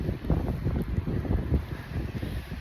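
Steady buffeting wind noise rumbles across the microphone, with gusty low-frequency roar throughout and no voices.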